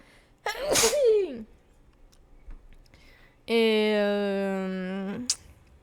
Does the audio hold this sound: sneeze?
yes